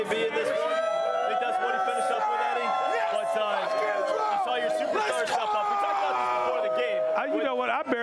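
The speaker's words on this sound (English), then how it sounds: "They're so loud. This crowd is so hype." Loud, dense crowd noise from a packed Celtics home arena during a Game 5 playoff win over the Heat, sustained cheering and whooping close by with people talking and shouting over it throughout.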